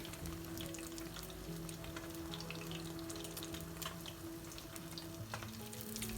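Steady, dense crackling and popping of sardines frying in hot oil, continuous and close throughout with no voices.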